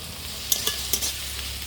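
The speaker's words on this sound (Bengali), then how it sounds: "এখন ওর মধ্যে একটু ভাজা চিংড়ি মাছ দিয়ে দিচ্ছি" Fried shrimp stirred into spinach and vegetables cooking in a pan, with a few soft scrapes and clinks over a low steady sizzle, no talking.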